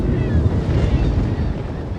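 Steady rushing wind and crashing waves in stormy weather around a water scooter in the Hitman video game, a continuous loud, broad wash of noise with no clear talk.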